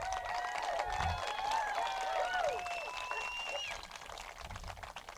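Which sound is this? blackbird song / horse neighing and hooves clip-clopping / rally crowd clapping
rally crowd clapping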